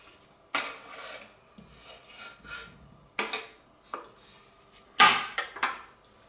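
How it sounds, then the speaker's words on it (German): Mozzarella pieces dropped into a frying pan make several bright clattering thuds at irregular intervals, with soft scraping and shuffling between them, close by and without talk. "dann geben wir die Mozzarella-Stücke in die Pfanne"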